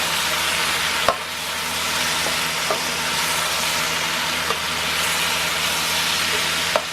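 Pinakbet vegetables with fried meat stirred in a pot over steady frying sizzle, with a few sharp utensil knocks against the pot scattered through.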